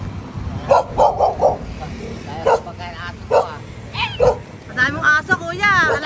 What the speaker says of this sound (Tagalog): Madami mong aso, kuya.